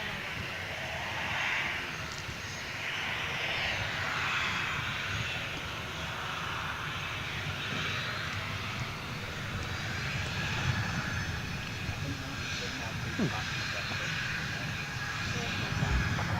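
An airliner lines up and begins its takeoff at Gold Coast Airport, a broad, steady engine roar from a distance that swells slightly over time while people talk over it.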